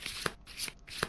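A deck of game cards is shuffled for the board game Kingdom Death, giving three quick riffling bursts with soft snaps between them, close and clear, with no talk.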